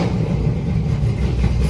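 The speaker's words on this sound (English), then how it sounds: "I'm gonna try to gas it and it won't even go that far" A supercharged Hemi engine running rough, a loud, continuous low rumble that holds without climbing into a clean rev when throttled, close by with no talking.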